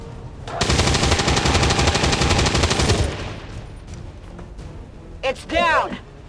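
Rapid automatic gunfire from a soldier's weapon in XCOM 2, a dense, loud burst lasting over two seconds, then quieter game ambience with a brief electronic warble near the end.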